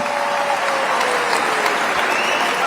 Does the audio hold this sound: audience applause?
yes